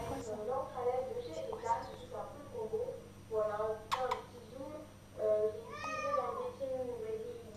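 A pet cat meows several times at close range, short rising calls scattered across the clip over a steady low hum, while someone speaks softly to it between the calls.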